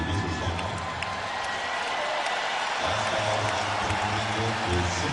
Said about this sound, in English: Fans cheer Michael Jordan back in.